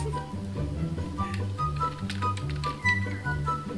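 Rapid clicking of a keyboard being typed on during a game session, quick irregular taps over a steady low droning background of game sound.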